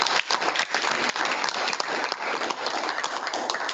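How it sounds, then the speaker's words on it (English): An audience claps for a team after a hackathon pitch presentation. The clapping is dense and rattling, continuous and fairly close, with no talk over it. "we have to clap them as well"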